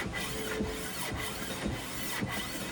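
Hand sanding with sandpaper on an abandoned Ford Ranger, a faint rasping scrape repeated in push-pull strokes about every half second.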